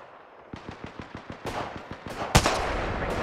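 Rapid gunfire in the Apex Legends video game: a run of evenly spaced shots, then a denser burst with a loud sharp crack partway through, close and punchy with no talking.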